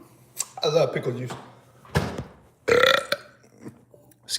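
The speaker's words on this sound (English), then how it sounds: "My apologies for burping on camera." A man burps loudly several times after drinking pickle juice, deep croaking eructations up close in a quiet room.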